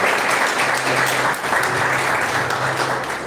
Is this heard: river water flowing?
no